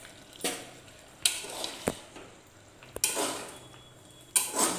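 A spoon stirs chana paneer in a cooking pan, giving several sharp scrapes and clinks of metal on metal spread through the moment, close and fairly loud over a quiet background.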